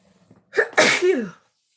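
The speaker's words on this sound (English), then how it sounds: "I'm going to sneeze." A single close, loud sneeze: a short sharp intake followed by an explosive burst that trails off, with silence before and after.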